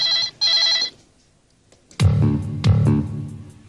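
A telephone rings in two shrill electronic bursts, a pause follows, then a lower loud buzzing tone pulses twice, close up.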